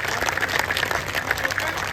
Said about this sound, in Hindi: एक बार आगे से पीछे तक मेरे कहने पर आप लोग तालियां बजा दीजिए